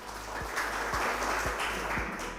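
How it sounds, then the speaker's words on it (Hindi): Loud, sustained applause fills a stage gathering of farmers and agricultural experts in Hoshiarpur, welcoming the experts at a forum on crop stubble management. The clapping is dense and steady throughout, with no voices over it. "सबसे पहले हमारे विशेषज्ञों का स्वागत करते हैं जोरदार तालियों के साथ।"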